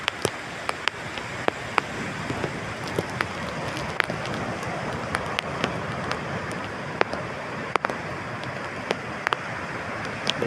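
Heavy monsoon rain at Kalvi Bandar, Vengurla, in Konkan, a steady dense hiss of downpour with wind, punctuated by frequent sharp drips or clicks close by.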